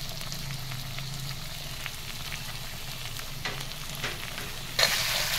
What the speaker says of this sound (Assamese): এতিয়া কলপচলাখিনি দি লৰাই লৰাই ভাজি দিম